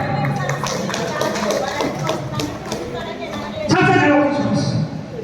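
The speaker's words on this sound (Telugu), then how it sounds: "గట్టిగా చప్పట్లు కొట్టండి" An audience at a magic show claps in quick, dense bursts, the applause running steadily and swelling briefly, heard under a presenter's talking.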